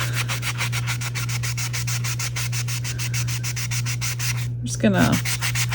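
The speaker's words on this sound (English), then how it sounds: "sand the edges that have no sticker, and that'll help it stay in place" Edges of resin coasters being sanded by hand, a quick regular back-and-forth rubbing rhythm over a steady electrical hum, ending in a brief handling clatter.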